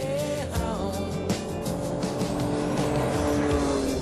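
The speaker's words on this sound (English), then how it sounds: "The Ferrari doesn't seem to be worrying at all about these ruts." A Ferrari F599 driving over a rutted road, its engine a continuous loud drone close to the microphone, with road and tire noise rising and falling but no break.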